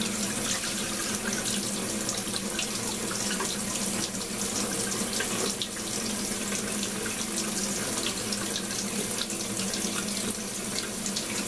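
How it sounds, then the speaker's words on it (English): Steady, full rush of cold tap water pouring continuously over a foam glider wing, close and loud, with no pauses or voices. "Give it plenty of cold water on it."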